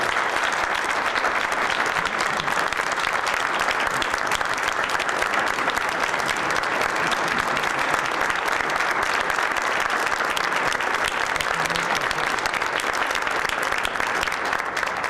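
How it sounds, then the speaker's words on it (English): A room full of people at a Bristol town meeting applauds steadily and warmly for a long stretch, dense clapping without pause. "give Dave a special round of applause for his 16 years of service"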